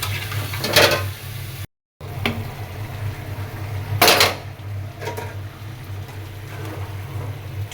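Heart meat cooking in a pan is stirred with a utensil, bringing a few scraping, clattering strokes against a steady low hum, with one brief dropout.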